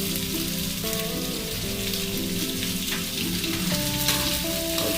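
Potatoes seasoned with salt fry in a pan for a fasting-day vegetable dish, giving a steady, close sizzle and crackle that runs the whole time, with a melodic tune playing softly underneath.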